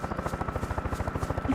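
Helicopter in the video game DayZ, a rapid steady rotor thumping with a droning engine hum, close and loud, with no talk.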